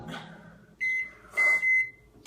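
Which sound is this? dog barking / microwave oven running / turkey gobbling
microwave oven running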